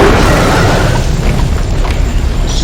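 Fireball attacks in the video game Jade Empire make a loud, continuous roaring blast, dense and booming throughout with no pause.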